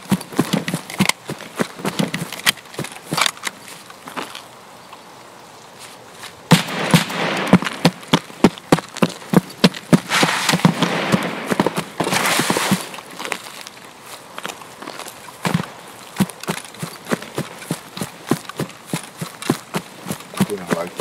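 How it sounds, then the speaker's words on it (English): Gunfire from the video game Escape from Tarkov pops in rapid bursts and scattered single cracks, loud and close, with quieter stretches between volleys and talk mixed in. "Sound of the shooting"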